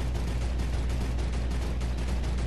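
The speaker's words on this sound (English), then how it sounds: "Has the firing of a minigun." A minigun fires in a video game, a dense, unbroken roar of rapid gunfire at constant loudness from start to finish.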